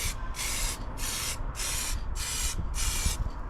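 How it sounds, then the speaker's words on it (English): A spray gun laying car paint onto a Rover 75 in bursts, a loud even hiss repeating about six times in steady passes with no talking. "You'll notice Simon spraying over those trim bits because they're coming off"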